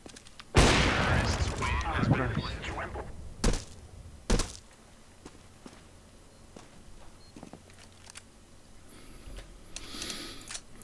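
Counter-Strike gunfire produces a loud burst followed by a few sharp shots and thuds, then quieter scattered pops and faint background voices.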